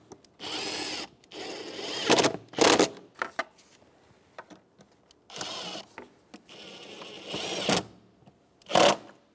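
Power driver or ratchet tightening the airbox hose clamps on a 1999-2004 Jeep Grand Cherokee, short whirring bursts repeated several times with brief pauses and clicks between.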